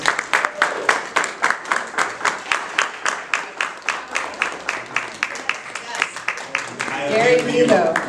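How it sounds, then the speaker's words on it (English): Audience applause for a panel at a leadership conference, a steady run of distinct claps from a small crowd, fairly close, swelling into a denser burst near the end. "Round of applause for our panel, please."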